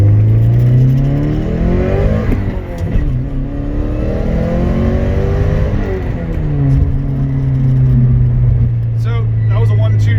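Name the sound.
Porsche 944 Turbo accelerating through 1-2 shift into third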